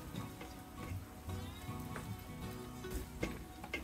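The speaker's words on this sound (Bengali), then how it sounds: "1 মিনিটের মতো আমি ভেজে নেব।" Bay leaves, sliced green chillies, mace, cinnamon pieces and cardamom pods frying in oil for beef liver bhuna, a quiet continuous sizzle with scattered ticking pops and a soft stirring scrape.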